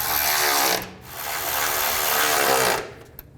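Power tool tightening the bolts on an under-car shield during inner tie rod replacement on a 2011-2014 Chrysler 200, two loud buzzing bursts from close by with a brief pause between, ending in a small click.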